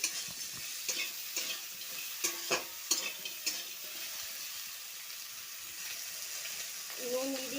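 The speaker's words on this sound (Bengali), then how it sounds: "সবজিগুলো মেরে ভালো করে একটু ভেজে নেবো" Vegetables being fried and stirred in a pan, a soft background sizzle broken by sharp scraping clacks of a spatula against the pan, clustered early and then settling into quieter frying.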